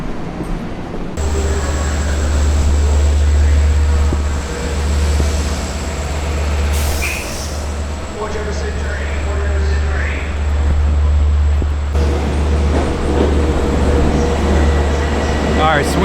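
A loud, steady low rumble fills a train car on the way to Hyde Park in New York, with rail noise running through the whole stretch and people talking over it.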